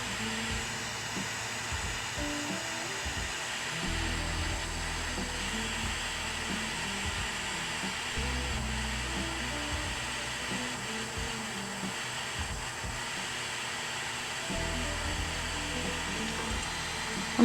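A torch roars in a constant, breathy rush as it heats a piece of sheet metal for soldering while making a jewelry nameplate. The sound holds steady throughout, with a faint background tone and no talking.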